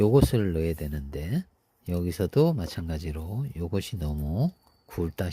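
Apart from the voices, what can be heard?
No distinct noise like a dog, phone or traffic.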